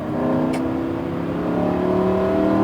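A Lamborghini Huracan accelerates up a hill on a racetrack, its engine note rising steadily in a loud, close, continuous rev with a brief sharp click early on.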